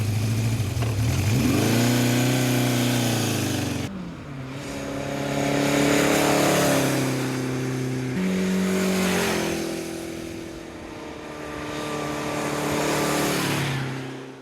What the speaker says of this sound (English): let's look at the massively successful inline 4 of the Honda CB750